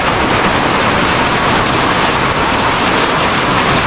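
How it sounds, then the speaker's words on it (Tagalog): Heavy rain pours down in a dense, constant roar with no letup and no voices. "pangalawang bugso na ng ulan yan"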